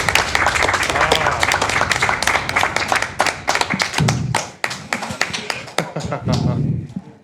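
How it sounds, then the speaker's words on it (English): Audience clapping for a Super Metroid map randomizer race speedrun, dense close hand claps in a steady flurry that thins into scattered individual claps with soft thuds near the end. "All the claps."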